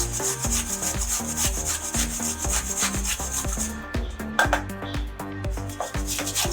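Carrots are rubbed on a grater in quick, regular rasping strokes, each scrape sharp and close, ending in a looser flurry of shorter scrapes. No voices are heard.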